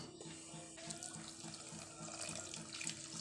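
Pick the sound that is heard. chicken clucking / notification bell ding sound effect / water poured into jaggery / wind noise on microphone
water poured into jaggery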